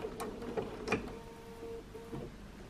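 A sewing machine worked slowly by hand, turning through a blanket stitch on appliqué, giving soft mechanical clicks and a faint thump, fairly close and quiet, with no talking.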